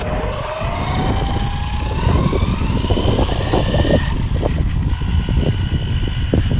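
The electric motor of a V2 Limitless RC model revs up loud and close, its whine climbing in pitch over a rough, buzzing drone that holds steady throughout.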